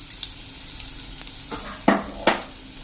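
Spice paste frying on low flame for sponge gourd sabji, a soft steady sizzle with a few louder bursts of stirring scrapes near the end, close and moderately quiet.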